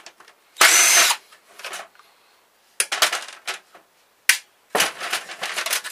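Power drill backing screws out of a printer being scrapped for metal, several short loud whirring bursts separated by pauses, with small clinks and handling noises between them.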